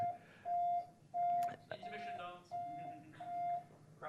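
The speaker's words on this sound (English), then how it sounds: "Fire alarm." An emergency fire alarm sounds at a large tech conference, giving repeated steady electronic beeps in a regular on-off pattern, with crowd chatter and talk going on underneath.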